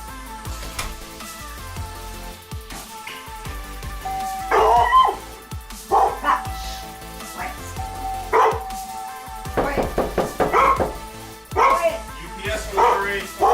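A dog barks and yips at a doorbell in scattered bursts, close by, mixed with a person talking and some electronic tones in the background.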